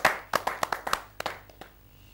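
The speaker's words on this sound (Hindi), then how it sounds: "तो जोरदार तालियों से स्वागत करें" An audience at a Hindi poetry gathering claps to welcome a poet: a burst of distinct, sharp handclaps from a small crowd, loud at first, then thinning out and fading to a few scattered claps.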